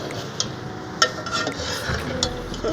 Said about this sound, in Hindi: अभी ऑयल डाल दिया है, थोड़ा अभी मिक्स कर रहे हैं।